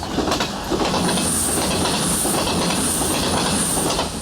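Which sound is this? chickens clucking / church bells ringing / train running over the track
train running over the track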